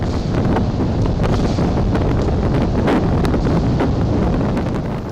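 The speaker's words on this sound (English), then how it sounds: "A powerful gust slams into the side of a docked ship in the Seychelles, causing its steel mooring line to snap." A powerful wind gust roars against a docked ship in the Seychelles during an Indian Ocean storm, a loud, continuous buffeting blast with wind noise on the microphone; no distinct snap of the steel mooring line stands out.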